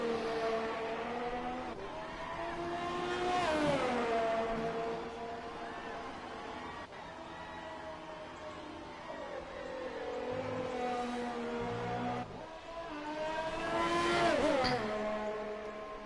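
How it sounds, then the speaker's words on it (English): A Ferrari race car in a racing video game pulls out of the pits, its engine a continuous harmonic drone that climbs and falls through gear changes, with strong revving surges near the start and end. "And Tico's coming out of the pits. He's starting his out lap in the Ferrari."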